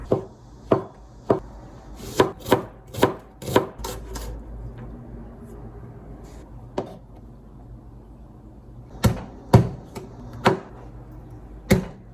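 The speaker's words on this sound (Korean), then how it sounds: "썰었어요" Vegetables for ratatouille are sliced on a cutting board, sharp close knife chops in irregular bursts of several quick strokes, then a pause and another brief run of cuts.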